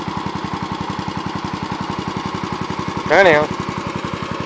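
A 1987 Gravely 12G tractor engine running close by with a steady fast thumping idle, a person briefly talking over it.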